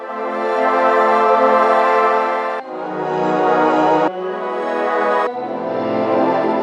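A lush, bright wavetable synth pad plays four sustained chords in succession, each with a shimmering, shifting harmonic texture.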